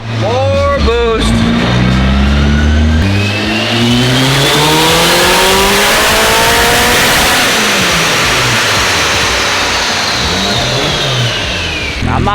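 A Nissan S13 with an SR engine revs hard on a dyno, loud and close, its pitch sweeping up in long pulls with a brief drop between runs and sustained high-rpm roaring throughout.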